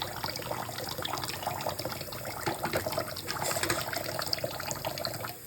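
Running water rinses instruments by hand under a tap, a steady splashing flow close by with no voices.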